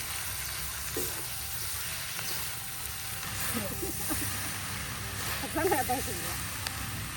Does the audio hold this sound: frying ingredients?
yes